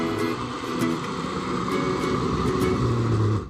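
A grinder blending curry spices into a smooth paste runs as a steady, loud, continuous motor whir with no voices.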